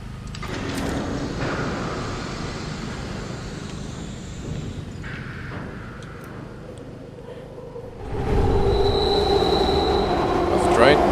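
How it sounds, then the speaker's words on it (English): A train rumbles past in the video game Beyond Hanwell, a loud continuous rolling roar with squealing wheels that swells sharply near the end. "That's the train."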